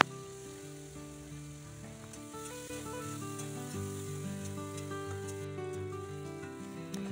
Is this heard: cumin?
yes